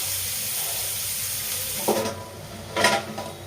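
Onions fry in oil in a small wok with a soft continuous sizzle, then louder bursts of stirring and hissing come in short surges toward the end.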